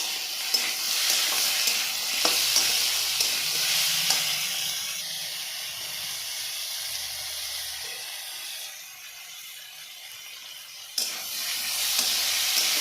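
Potatoes frying in a pan with salt and turmeric, a steady close sizzle and hiss broken by a few sharp stirring scrapes and knocks, fading a little midway before rising again.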